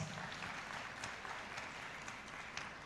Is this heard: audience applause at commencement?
yes